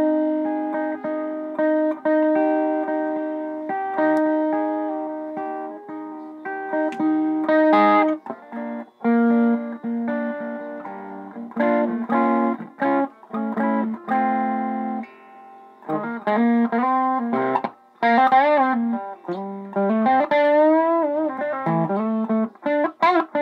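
Clean electric guitar tuned to D standard through an Orange Micro Terror amp with the tube screamer off, playing chords and single-note riffs with pauses and let-ring passages, close and fairly loud.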